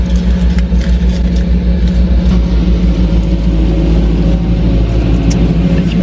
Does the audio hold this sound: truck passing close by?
yes